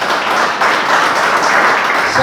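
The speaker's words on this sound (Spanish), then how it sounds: "¿Cuánto le dan un aplauso a Dios?" A church congregation breaks into loud, sustained applause, many hands clapping together in a broad, steady wash that continues throughout.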